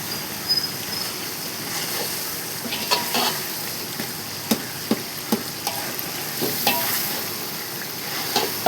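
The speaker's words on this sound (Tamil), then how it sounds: "அது வதங்கட்டும். நல்லா வேகணும், நல்லா மசியணும்." Vegetables for a large 4 kg biryani sizzling in a pot on a gas stove, a steady frying hiss broken by regular scraping stirs of a ladle, close, with no talking.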